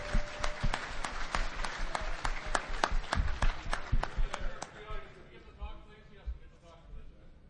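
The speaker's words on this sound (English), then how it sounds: "I think the goons actually deserve quite another round of applause here." A conference hall audience at a DEFCON hacker convention claps and cheers in a dense, lively burst, then the applause thins out and fades under voices.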